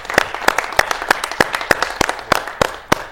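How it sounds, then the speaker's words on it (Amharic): Audience applause for two performers in a televised singing competition, heard as about a dozen evenly spaced, crisp claps, close and moderately loud, with no talk over them. "በጣም ማጨብጨብ ፈልጋለሁ"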